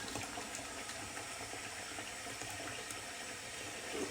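Used shaving water drains down a sink, a steady soft gurgle and rush of liquid that carries on for several seconds, faint and without speech.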